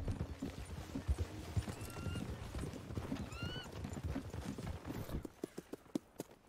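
Horse hooves clip-clop steadily in Red Dead Online, accompanied by occasional neighs and whinnies, with a group of riders moving together; at the end the hoofbeats turn into a few sharp, isolated steps.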